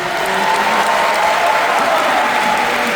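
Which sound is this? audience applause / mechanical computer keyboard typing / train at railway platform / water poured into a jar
audience applause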